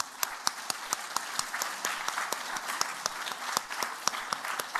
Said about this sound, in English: Let's clap them out.